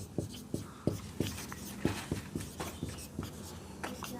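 A pen taps and scratches out a maths equation on paper during a class 10 linear equations lesson, about a dozen short, sharp strokes in an irregular rhythm, close and fairly quiet.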